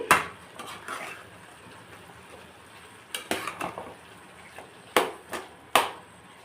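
Raw prawns get stirred into a pan of cooked cucumber curry, with sharp metallic spoon knocks against the pot in scattered bursts over a soft cooking hiss, close by and with no talk.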